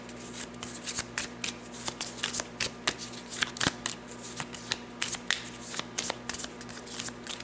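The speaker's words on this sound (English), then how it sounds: "and we shuffle everything real well." A deck of game cards is shuffled thoroughly at a tabletop during a solo turn of a card-driven board wargame, giving close, crisp bursts of riffling and flicking that repeat in quick irregular rhythm, with no talking.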